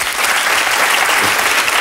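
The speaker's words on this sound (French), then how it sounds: "Ouais, vous pouvez l'applaudir." A TV talk-show studio audience, Thierry Ardisson's Tout Le Monde En Parle, breaks into loud, dense applause, a close, continuous roar of clapping with no gaps and no talk over it.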